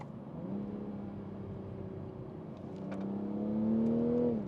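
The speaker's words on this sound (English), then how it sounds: "let's have a play with these paddles and listen to the sound that straight six makes." A Toyota A90 Supra's B58 straight-six engine revs up through paddle-shifted gears, a smooth, close, steady drone that climbs in pitch and swells louder toward the end, with faint clicks in the middle.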